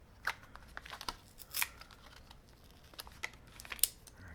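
A plastic Ziploc bag from the packaging of LOK brass P320 pistol grips torn open by hand, heard as a few brief crinkly snaps and rustles, close and fairly quiet.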